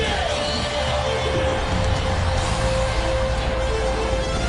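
Arena crowd at the Quicken Loans Arena before an NBA playoff game against the Detroit Pistons, a dense, steady roar of cheering and noise with a faint sustained tone running through it.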